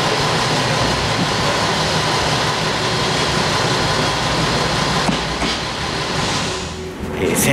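A local train on the Senzan Line rumbles steadily with a broad, even roar, a continuous close cabin noise that eases slightly near the end, no voices.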